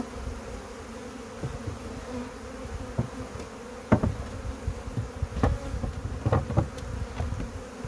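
Honey bees hum in a steady, low buzz at close range, with occasional soft knocks and taps breaking through the drone.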